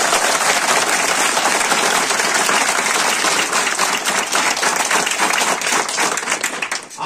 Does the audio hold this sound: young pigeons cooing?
no